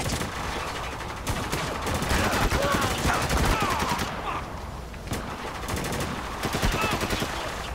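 Gunfire in Spec Ops: The Line, sustained loud bursts of automatic fire with rapid overlapping shots and brief pauses, filling the scene throughout.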